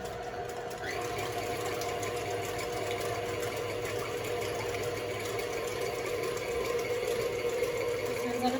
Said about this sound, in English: We're gonna beat until it's foamy.